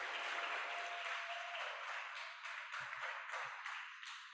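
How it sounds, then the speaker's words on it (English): Applause from a Kiwanis leadership training audience for DLG Bev: sustained clapping from a group that gradually thins, with a faint steady tone underneath and a few low thumps near the end. "big round of applause."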